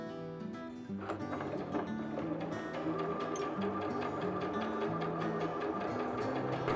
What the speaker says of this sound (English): The way that it makes buttonholes is just perfect